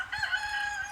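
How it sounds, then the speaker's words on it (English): Rooster crowing once in a sustained, strained cock-a-doodle-doo, fairly close and clear, outdoors at a site being searched with a metal detector. "That rooster is so loud."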